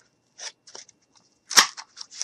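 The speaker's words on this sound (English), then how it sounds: "And I'm just going to take my scissors." Scissors snip through craft material for a mini gnome, a few short crisp cuts close to the ear, with a louder cluster of quick snips near the end and quiet gaps between them.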